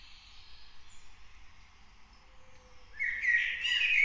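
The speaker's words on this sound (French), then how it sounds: "le corbeau, tu l'as entendu?" A crow calls in the Warzone video game, a short harsh cry rising near the end over quiet background ambience and faint rustling.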